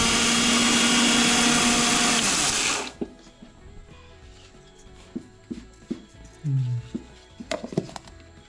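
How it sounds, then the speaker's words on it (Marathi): A kitchen mixer grinder whirs loudly and steadily while grinding rice to a coarse, semolina-like texture, then cuts off abruptly, leaving quiet clinks and soft handling noises. "तर आता लावून घेता मिक्सरात."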